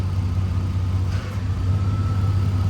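A 1994 Chevrolet C1500 pickup engine runs at a steady idle up close while the steering is worked, a continuous low hum with a brief dip partway through and no talk.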